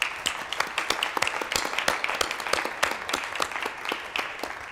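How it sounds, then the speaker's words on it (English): Applause from a small audience at a school board candidate forum, individual claps clearly distinct in a brisk, irregular patter, moderately loud with no talking. "let's give them a round of applause"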